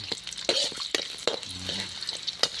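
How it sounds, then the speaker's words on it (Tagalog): Vegetables being sautéed with garlic and onion in a pan, a light sizzle under repeated clanks and scrapes of a utensil against the pan, close and fairly quiet. "igigisa ko siya sa bawang sibuyas"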